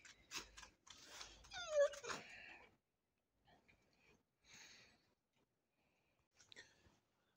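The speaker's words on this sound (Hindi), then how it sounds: "ये मेरा डॉगी है" A dog playing in snow in Shimla gives a few close whimpers and yips in short bursts, with quiet gaps and faint movement sounds between them.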